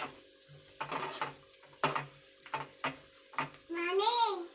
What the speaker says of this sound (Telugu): ఈ దోరగా ఎగాలమ్మా కొద్దిగా ఎరుపు వచ్చే వరకు ఎగితే బాగుంటాయి